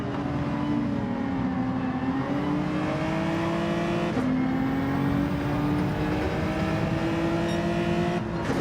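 Race cars from Gran Turismo 7 roar steadily at Donington, with a sustained engine drone that rises in pitch through a chicane as another car runs alongside, loud and continuous throughout.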